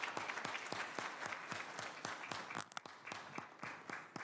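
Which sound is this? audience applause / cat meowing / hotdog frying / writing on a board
audience applause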